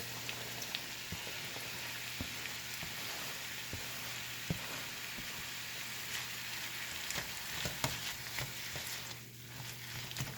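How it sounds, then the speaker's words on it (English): Chopped peppers and onions frying in a pan, a steady soft sizzle with scattered pops and crackles throughout, fairly quiet and alone with no voices. "I'm going to go ahead and add that to my pan and let that start to cook."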